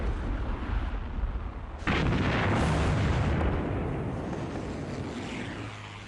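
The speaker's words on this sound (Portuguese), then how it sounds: "Por 2 horas e meia, 5 navios coordenam um bombardeio extremo." Heavy naval bombardment by five ships pounding cliffs during the Pacific War, a dense, continuous roar of blasts and rumbling fire with aircraft droning overhead, jumping sharply louder partway through and staying intense.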